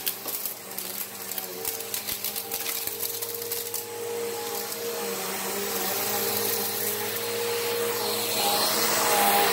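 Bissell Power Groom bagless upright vacuum cleaner running steadily on carpet during a big mess cleanup test, a loud continuous motor drone with faint clicks of debris early on, heard alone without talk.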